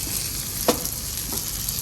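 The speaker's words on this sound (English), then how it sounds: "As you can see, this is sizzling hot." Matti ki bhatti chicken starter sizzling hot on its platter at a restaurant, a steady close crackle and hiss with a couple of brief pops.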